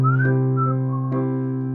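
A whistled whippoorwill call imitation glides upward in short phrases over a sustained low musical drone, steady and fairly loud.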